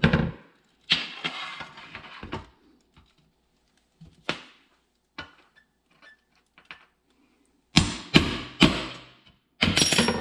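A hammer striking a deep 11 mm socket on a 1976 Cherokee rear window repair, a series of sharp metallic taps, some spaced apart and a few clustered, close and crisp with quiet gaps between.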